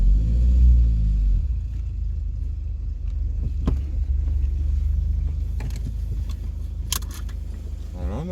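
Audi A3 8P finishing a short lap on a dry, hot day, a close, continuous low engine rumble and throb, heaviest at the start, with a few faint clicks and knocks over it.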